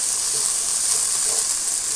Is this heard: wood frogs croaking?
no